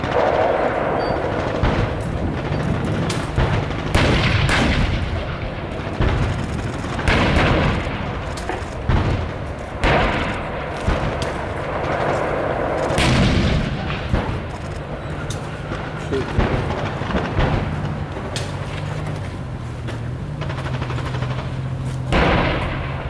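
Artillery and small-arms gunfire during the NATO Noble Jump 2019 military exercise, a dense, continuous barrage of booms and rapid cracks rolling over each other at a loud, sustained level without speech.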